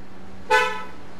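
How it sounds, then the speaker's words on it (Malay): A car horn toots once outside, a short moderately loud honk over a quiet background. "Dengar macam bunyi kereta kat luar tu."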